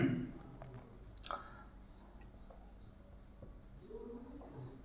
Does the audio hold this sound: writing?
yes